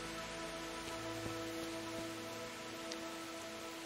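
Steady rain falls in the medieval world of Kingdom Come: Deliverance, a continuous even hiss with faint tonal lines beneath, no voices.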